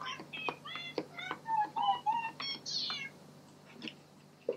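A run of bright synthesized cat meows from the Nintendo Labo piano Toy-Con on Nintendo Switch, played in quick succession like a melody of short mews, ending in a longer rising meow, close and clear.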